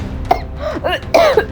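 A woman gives a few close, strained coughs and throat-clearing sounds, short and loud, with brief gaps between them.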